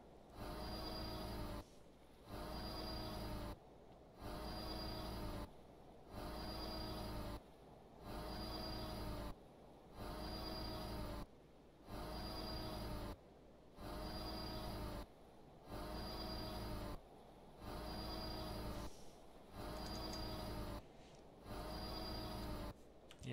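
A locomotive runs in the Stormworks video game, giving a loud, steady rumbling drone with a regular chuffing pulse that repeats about every two seconds for the whole stretch, with no talk over it.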